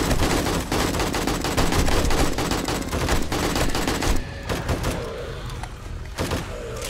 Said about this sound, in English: So I'm shooting that one in the legs.